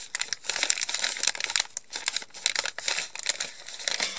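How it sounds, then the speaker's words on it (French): Tape is peeled off an advent calendar in a close, crackly run of crinkling and tearing bursts, irregular and fairly loud, with brief pauses between pulls and no talking. "Mais j'enlève déjà un peu le scotch."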